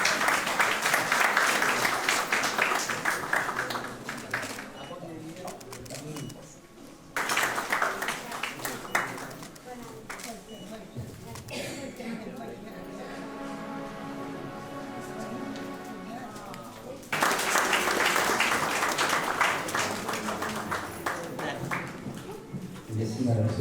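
Bursts of dense audience applause at a community event, loud spells of clapping broken by quieter stretches where a voice speaks and music plays.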